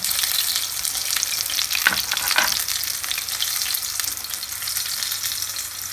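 Gözleme flatbread with spinach filling frying in a pan, a dense, steady crackling sizzle filling the whole stretch, with a couple of brief louder scrapes near the middle and no talk.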